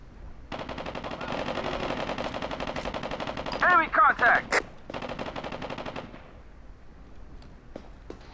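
Automatic gunfire rattles in the video game America's Army: Proving Grounds. A long sustained burst builds to a few louder shots, then a second burst follows before the shooting fades to scattered faint reports.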